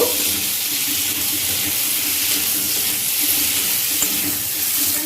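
Potatoes frying in a pan with onion and tomato, a dense, constant close-up sizzle with faint stirring underneath and one small knock near the end.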